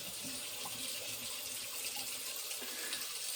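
Cold tap water runs steadily into a bathroom sink after a shave with Habana soap, a continuous even splash close by with no voices.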